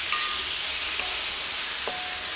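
Curry leaves drop into a pan of frying tomato masala and crackle steadily, a close, continuous loud sizzle with no voices.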